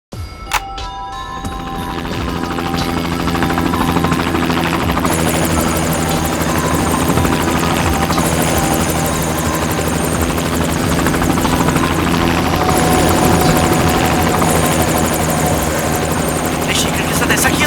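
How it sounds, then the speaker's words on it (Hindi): Black box recording from inside a helicopter in flight: a steady, loud rotor and engine drone with a constant buzzing hum, starting after a brief click and running unbroken throughout. "ब्लैक बॉक्स की रिकॉर्डिंग सुनते हैं, पता चल जाएगा उड़ान के वक्त हेलीकॉप्टर में क्या बातें चल रही थी"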